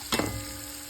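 Tomatoes and onions fry in oil for biryani, a brief steady close sizzle opening with a short burst of stirring.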